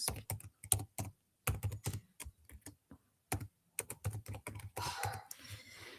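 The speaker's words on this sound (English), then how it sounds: "I'm just typing my email address for some" Typing on a computer keyboard while entering an email address: close, rapid bursts of plastic key clicks in uneven runs with short pauses between, no voices.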